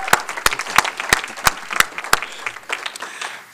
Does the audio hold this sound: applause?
yes